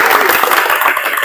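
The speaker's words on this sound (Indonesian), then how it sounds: "tepuk tangan untuk kita semua" An audience claps in a brief, dense burst of applause at the close of a welding procedure presentation, with a voice audible alongside.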